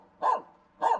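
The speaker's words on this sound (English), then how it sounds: "You're just barking." A dog barks twice, close and loud, with a short pause between the two barks.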